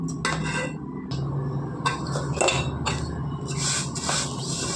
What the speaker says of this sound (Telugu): కంగారు పడకుండా నిదానంగా స్లో ఫ్లేమ్లోనే ఎర్రగా ఫ్రై చేసుకోవాలండి సేమియాని.